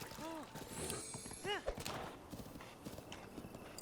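Horse hooves clip-clop in a rhythmic gallop in Zelda: Breath of the Wild, with a short whinny-like call and voices sounding faintly alongside.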